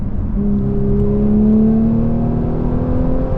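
A Stage 2 Audi S4 engine revs hard after a downshift, a loud, steady rising drone that climbs in pitch across the whole stretch and stays close, with no talk over it.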